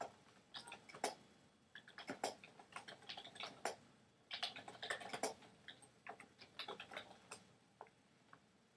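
Rapid, uneven clicking of keys on a computer keyboard while a blog posting message is typed, fairly close and quiet, steady bursts of taps with short pauses and no voices.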